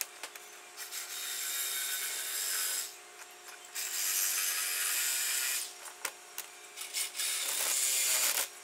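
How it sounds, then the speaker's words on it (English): A worn flap disc grinds stainless steel turbo manifold tubing for a Subaru-powered 911, making loud rasping passes that stop and start in bursts, with short pauses between strokes. "then just shape them down using a flap disc"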